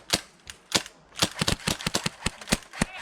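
Rapid, uneven bursts of sharp snapping airsoft gun shots at an outdoor skirmish event, some nearer and louder, others faint. They fire almost continuously over a few seconds.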